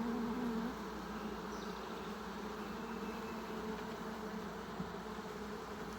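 Honeybees buzz around an open hive being inspected for laying queens and hive beetles, a dense, steady swarm drone close by that fills the whole stretch without breaks and without speech.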